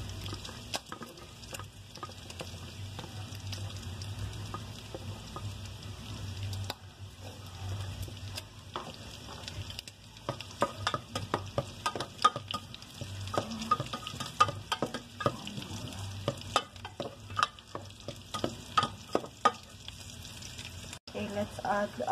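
Onion sizzling in melted butter in a pan for scalloped potatoes: a steady frying hiss crackling with dense pops that grow busier and louder after the onion goes in, close up, with a few words spoken over it.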